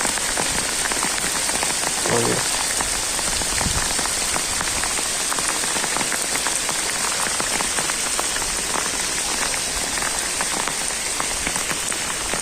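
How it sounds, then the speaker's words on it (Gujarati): Steady heavy rain pattering on surfaces outdoors during the rice-planting season, a loud continuous dense hiss of drops with no voices over it. "વરસાદ ચાલુ થઈ ગયો."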